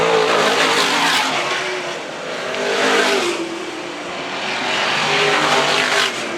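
Stock cars race around the Arlington Stadium track, a loud continuous engine roar that swells and fades as cars pass, with no voices over it.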